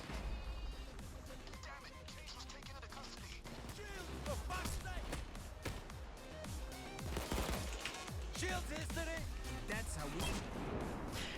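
Dense gunfire from the video game Payday 2, including sniper shots, rattles on continuously as rapid cracks and bursts layered with game music and effects, while a person talks over it.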